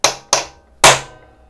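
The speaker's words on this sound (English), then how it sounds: "Nice heavy hammer makes it a lot easier." Three sharp metallic blows from a heavy hammer striking a motorcycle engine casing on a classic Yamaha DT100, two quick hits then a louder third after a short pause, close and alone.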